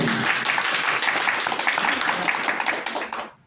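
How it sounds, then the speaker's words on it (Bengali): An audience at a small cultural gathering of a village literary and arts group claps together, a dense burst of applause that holds steady and then fades out in the final half second. "একটা ছোট্ট করে হাততালি দেন সকলে"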